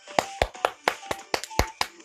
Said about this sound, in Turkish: Hem kendime hem size alkışlıyorum